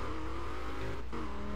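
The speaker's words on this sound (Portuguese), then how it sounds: "continua acelerando depois de ter estraçalhado" Car engine in the Burnout Paradise racing game revs steadily as it accelerates, a loud continuous drone with a brief dip before climbing on.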